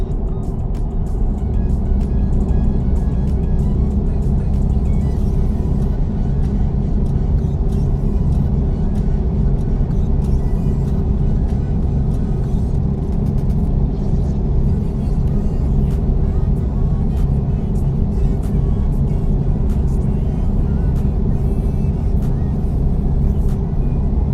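A car engine drones steadily in a driving simulator game on a highway trip into Missouri, with a continuous, fairly loud hum and road noise and no speech.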